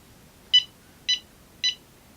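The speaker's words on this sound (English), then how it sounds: "Basically, it's a small audible alarm. So listen to this." Three short, high electronic beeps from a DJI Tello drone's add-on audible alarm, evenly spaced about half a second apart, clear against a quiet background.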